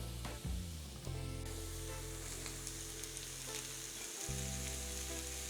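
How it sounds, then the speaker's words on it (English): Chopped mushrooms and shallots sizzle steadily in a hot pan, a close, continuous frying hiss with a brief stir-like break partway through. "Roughly chop your reconstituted mushrooms and add them to your shallots."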